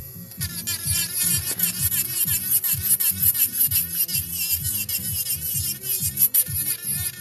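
A high-pitched rotary buzz from an electric nail drill whirs steadily at close range, with a repeating low rhythmic pulse underneath and occasional brief grinding changes.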